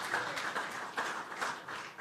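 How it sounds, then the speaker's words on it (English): Audience applause for a Master of Ceremonies at a ministry launch event, sustained clapping from a crowd lasting the full two seconds at moderate distance. "give the Master of Ceremonies a big round of applause"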